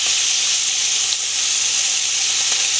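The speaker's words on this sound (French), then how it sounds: "Et on va faire frire nos saucisses." Sausages fry in a pan for a cari with babafigues, giving a steady, loud, close sizzle and hiss that runs unbroken throughout with no talking.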